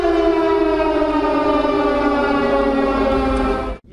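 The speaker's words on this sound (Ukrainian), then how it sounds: "лунає сигнал повітряної тривоги" An air raid siren sounds during a war-time alert at a children's camp in Ukraine. One loud, steady wail holds for almost four seconds and then cuts off abruptly.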